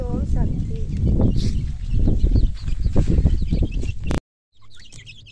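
Chickens given as livelihood aid to needy families cluck and chatter in a busy, close, fairly loud flock for about four seconds before the sound cuts off, with people talking nearby.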